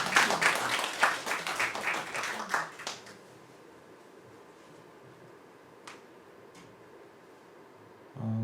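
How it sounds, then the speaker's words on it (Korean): Audience applause at a talk on digital media art in stage performance: a dense burst of clapping for about three seconds that fades out, leaving a quiet room with a couple of faint ticks. "로버트에게 박수를."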